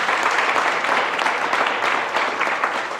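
Audience applause at a university high tea event, a steady dense wash of many hands clapping, loud and sustained across the whole stretch with no talk over it.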